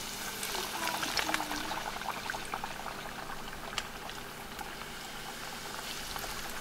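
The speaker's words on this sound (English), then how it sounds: "So frying just about any freshwater fish like this is super easy. You just drop it in the oil" Sand bass sizzles and crackles steadily in hot oil with scattered pops, faint and close, a continuous frying hiss with no talking.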